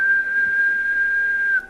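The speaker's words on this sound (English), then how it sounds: "let me just show you how I usually whistle" A person whistles through puckered lips, holding one steady, clear, fairly loud tone for about a second and a half before it stops abruptly.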